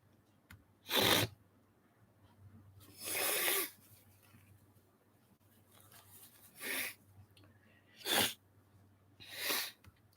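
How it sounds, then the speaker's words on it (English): Several sharp sneezes, about five, spaced a second or two apart in a quiet room, close and fairly loud with a low hum underneath. "I needed to sneeze"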